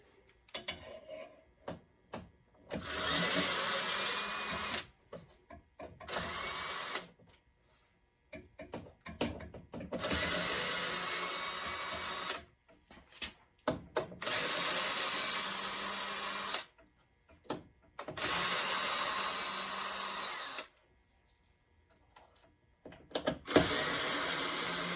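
A power drill backs out screws from the flipper mechanisms of a Revenge From Mars pinball machine, several separate bursts of close whirring with pauses and small clicks in between.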